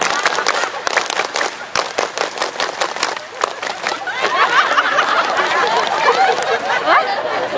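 An audience at an Indonesian religious talk performs the rhythmic scout clap (tepuk pramuka): a quick run of sharp, fairly close group claps in a patterned beat, then giving way to lively crowd chatter and laughter.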